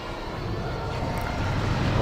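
Starfighter engines in the Star Wars Battlefront 2 video game, a continuous loud roaring rumble that swells slightly over two seconds, with no talk.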